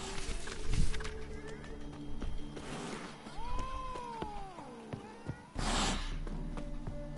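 A cat meowing in The Witcher 3, a short gliding meow near the middle amid game ambience with hoof-like clip-clop and brief bursts of noise, no clear speech.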